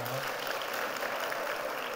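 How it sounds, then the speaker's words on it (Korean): A church congregation gives sustained applause during a children's Sunday school certificate ceremony. The clapping is a dense, even patter throughout the short moment, with a voice audible over it. "크게 박수해 주시기 바랍니다."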